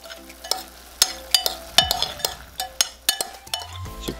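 Sugar and whisky for sweet potato and apple jam sizzle softly in a pan over medium heat, with frequent sharp clinks and scrapes of a utensil stirring against the pan, close and fairly quiet.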